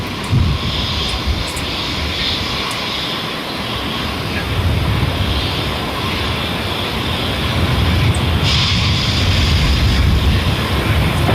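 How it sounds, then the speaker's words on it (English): A SpaceX Falcon 9 rocket at Vandenberg Space Force Base SLC-4E roars through engine startup, a loud, broad, continuous rumble that swells slightly toward the end. "Falcon is in startup."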